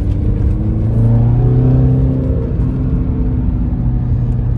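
A diesel car engine rumbles and revs steadily, loud and close, with a low droning note that rises and falls slightly, heard from inside or near the vehicle.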